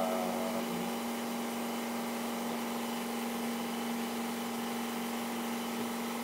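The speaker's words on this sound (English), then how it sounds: "when it reaches 70, the compressor will kick in" Air compressor on an iM3 system running steadily, a continuous mechanical drone with a strong steady hum, holding at an even level with no talk.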